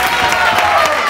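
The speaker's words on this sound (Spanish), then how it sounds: "Yo le daría un aplauso a Paco, de hecho." A television studio audience breaks into brief applause during a Spanish talk show, a dense, even burst of clapping heard close and loud for about a second.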